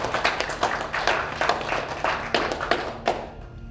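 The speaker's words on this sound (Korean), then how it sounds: "우리 뜨거운 박수로 환영의 박수를 좀 던져드리겠습니다" An indoor lecture audience applauds warmly to welcome a visiting political science scholar and his wife. Dense, steady clapping from many hands carries at moderate loudness with no talking, then thins out and fades near the end.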